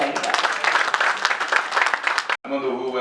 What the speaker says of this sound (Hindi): उनके लिए भरपूर तालियां बजाइएगा